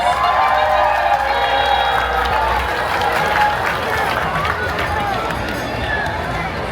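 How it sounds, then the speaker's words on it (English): A dense, steady roar of crowd cheering and shouting fills the stands at an OC Fair pig race in Costa Mesa, Orange County. It stays loud and continuous throughout with a constant background babble. "I want to hear cheering from each rooting section"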